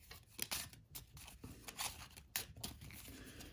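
A deck of cards gets shuffled during a board game session of Les contrées de l'horreur, a series of close, crisp riffling and rustling bursts with no talk over them.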